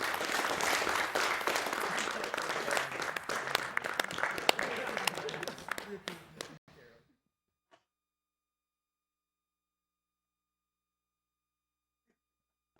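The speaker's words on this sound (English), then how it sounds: "Go ahead, clap." Applause from a live audience at a speedrun marathon event, a dense crowd of clapping that fades out after several seconds and leaves silence.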